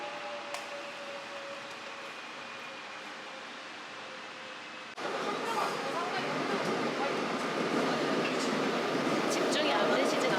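Ambience in a subway station while waiting for the train: a steady low hum that swells into a louder, broad rushing roar partway through, like a train arriving, with faint tones over it.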